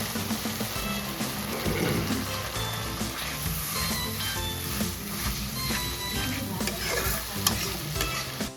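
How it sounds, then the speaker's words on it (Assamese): Spice masala with meat masala, red chilli powder and a splash of water frying in a pan, a constant sizzle with frequent scraping stirs close by and no talking. "এতিয়া মছলাখিনি ভালকৈ ভাজি লওঁ।"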